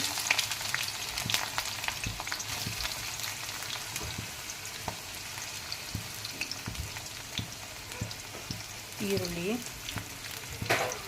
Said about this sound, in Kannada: ಇವಾಗ ಒಂದು ಬಾಣಲಿಯಲ್ಲಿ ಎಣ್ಣೆ ಇಟ್ಕೊಂಡು ಅದಕ್ಕೆ ಒಗ್ಗರಣೆಗೆ ಈರುಳ್ಳಿ